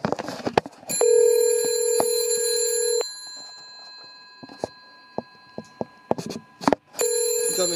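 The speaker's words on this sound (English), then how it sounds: "You can see the Ericsson top corner here is ringing." An Ericsson telephone bell rings loud and close in a two-second burst, then goes quiet apart from scattered clicks and knocks before a second short burst of ringing at the end.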